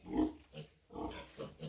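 Piglets grunt and squeal in short bursts as they are moved, three quick close calls at low volume.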